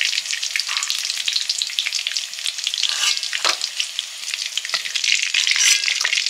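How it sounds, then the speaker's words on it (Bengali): Chicken balls fry in hot oil with a dense, continuous crackling sizzle, close and loud throughout with no voices. "চিকেন বলগুলো ভাজা হয়ে গেছে"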